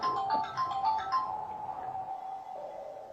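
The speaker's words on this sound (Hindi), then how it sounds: "अरे भव्या का फोन, बेटी का फोन है।" A phone ringtone plays in a Hindi family drama, a repeating electronic melody of short tones sounding steadily for a few seconds, slightly distant, with no one talking over it.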